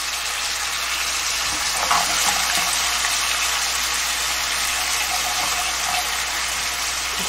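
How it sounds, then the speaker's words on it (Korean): A sauce of corn syrup and soy sauce simmering in a pan over very low heat for candied walnuts, a steady soft hiss and faint bubbling crackle, close and even with no voices. "이제 양념이 한번 끓었잖아요."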